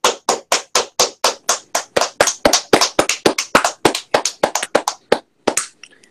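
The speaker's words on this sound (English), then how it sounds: "Round of applause to them." A single person clapping as a round of applause for race drivers on a motorsports show: about two dozen sharp, evenly spaced claps, close and crisp, trailing off after a short pause.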